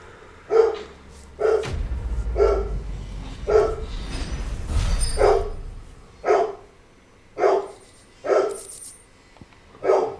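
A dog barks repeatedly in Final Fantasy XVI, about ten sharp barks in an uneven rhythm, fairly close, with a low rumbling noise under the middle stretch.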